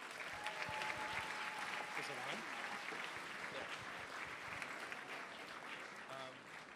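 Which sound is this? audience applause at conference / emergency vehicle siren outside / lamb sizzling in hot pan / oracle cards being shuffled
audience applause at conference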